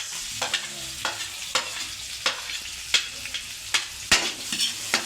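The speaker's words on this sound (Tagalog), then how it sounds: "Sunod natin ang sibuyas." Sliced onion sizzles in a hot pan for beef broccoli with corn, with regular scraping strokes of a spatula landing roughly every half second over a constant frying hiss, close and clear, with no voices.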